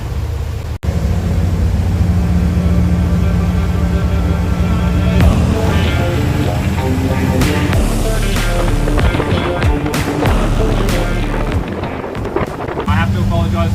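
A Riviera M430 Sports motor cruiser opens up at the mouth of the Brisbane River, its deep engine drone building steadily as strong wind buffets the microphone throughout.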